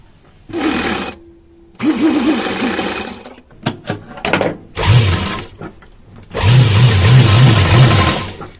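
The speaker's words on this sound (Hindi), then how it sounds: "सिलाई लगा लेंगे" Sewing machine stitching thin lace along the doubled edge of cotton fabric for a deity outfit, running in several loud bursts of rapid whirring with short pauses and clicks between runs.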